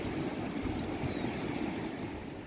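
Sea surf washing onto a beach in Durrës, a steady broadband roar of breaking waves with some wind across the microphone, close and continuous with no talk.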